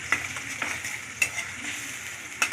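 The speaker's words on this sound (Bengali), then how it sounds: "ভালো করে নাড়াচাড়া করে মশলাটা কষতে থাকলাম।" Spice paste with yogurt frying in a pan while being stirred, a soft close sizzle broken by a few brief scraping strokes of a spoon.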